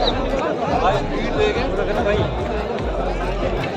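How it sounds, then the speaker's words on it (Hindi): A dense crowd of pilgrims at the exit of the Amarnath holy cave, a constant murmur of many voices and footsteps close by with one voice talking over the babble. "भीड़ देखो यहाँ पे"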